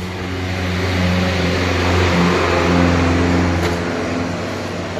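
A Mitsubishi Montero engine runs loud and close, its steady mid-pitched drone swelling gently as it revs and then settling back, with no voices over it.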